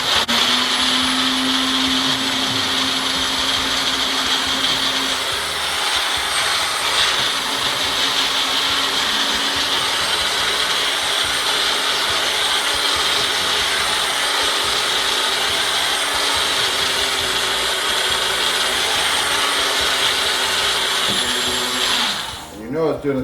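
Blender loudly pulverizing fish flakes into fine powdered fry food, a steady high-pitched motor whine with gritty churning that runs continuously before cutting off near the end.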